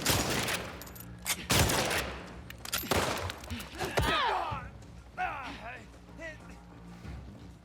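Bursts of video game gunfire, including loud close shots near the start, crack and echo amid shifting game effects while a person talks excitedly over the action.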